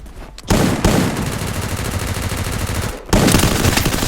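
Loud, dense automatic gunfire from the mobile video game Free Fire rattles almost continuously, broken by one short pause before the burst resumes.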